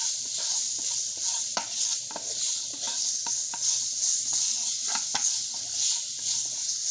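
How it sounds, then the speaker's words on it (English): Onions stirred in a hot pan of oil for samosa filling, a steady bright sizzle with repeated soft scrapes and knocks of the spoon against the pan, close and continuous with no talking. "I stir this."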